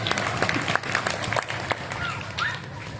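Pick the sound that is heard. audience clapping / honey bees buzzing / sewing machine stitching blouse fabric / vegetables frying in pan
audience clapping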